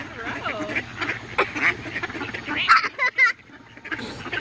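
A duck quacks several times up close, short nasal calls bunched toward the end, mixed with people talking nearby outdoors.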